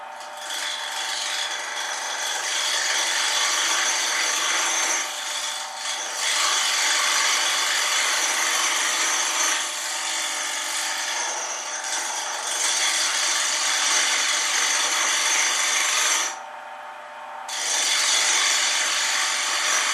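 Wood being turned on a WEN 12x18 five-speed lathe, a steady loud scraping and cutting drone with tonal motor whine, running continuously with a couple of brief dips where the tool lifts off the spinning workpiece.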